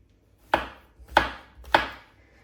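Three sharp knife chops on a cutting board, evenly spaced about half a second apart, close and crisp with nothing else in the background, made while chicken breast is being prepared in a home kitchen.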